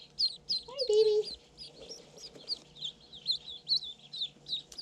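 A chocolate runner duckling peeps in a steady run of high, close chirps, with a brief lower call partway through and no talking.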